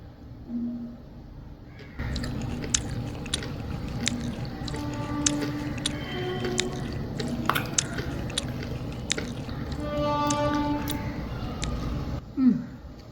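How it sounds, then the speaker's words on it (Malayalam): Sea grapes being chewed, wet squishy bites and small pops repeating steadily close to the mouth for about ten seconds, with faint background noise before and after. "ഒരെണ്ണം ഞാൻ കഴിച്ചു എത്ര ടേസ്റ്റ് എന്ന് അറിയാനായിട്ട്"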